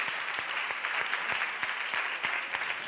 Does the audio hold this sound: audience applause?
yes